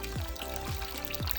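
Water gushes from the drain valve of a water heater about seven years old, a fairly close pouring stream with gurgling surges that swell and dip in a quick repeating rhythm; no voices.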